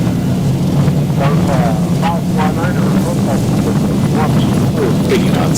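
Airliner engines in X-Plane 12 spool up to takeoff thrust on the runway, giving a loud, steady roar with a rising whine. Pilots and radio voices talk continuously over the engine noise.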